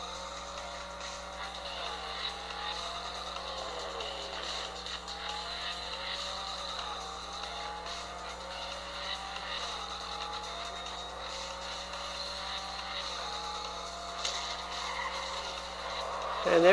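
Race car engines from Real Racing 3 playing on a Galaxy Note 8.0 tablet, a faint continuous engine whine with shifting pitch sweeps and a steady hum beneath, no talking.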